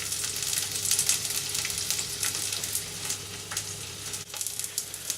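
Green beans and garlic frying over medium to high heat while being stirred, a steady crackling sizzle with a few soft utensil clinks, no voices.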